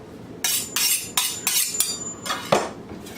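A knife chops onions on a board in a series of about seven crisp, sharp knocks at an uneven pace, close and fairly loud, with no voices.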